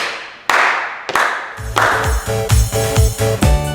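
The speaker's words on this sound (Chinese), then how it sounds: "加4拍拍手" Hands clapping in time during a dance routine, a few separate sharp claps before rhythmic music starts, then claps falling on the beat over the music.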